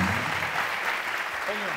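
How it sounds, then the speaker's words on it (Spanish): Studio audience applause for guests on a live comedy talk show, dense clapping spread through the room, with a voice speaking over it near the end. "Fuerte, hermano, el aplauso, Mau y Ricky!"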